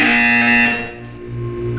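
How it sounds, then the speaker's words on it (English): A loud, harsh electronic buzzer in the video game Portal 2 sounds continuously, then softens and drops lower before swelling again. "When you hear the buzzer, look up at the ceiling."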